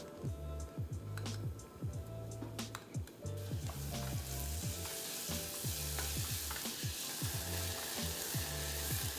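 Chopped onion and garlic sizzle in a little oil in a pot while being stirred, with scraping utensil sounds early on. The frying grows into a steady, loud crackle.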